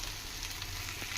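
Okra (bendakaya) frying crisp on a high flame, a dense, loud, continuous sizzle filling the whole brief moment with no pauses and no talking.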